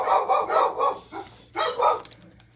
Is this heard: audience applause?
no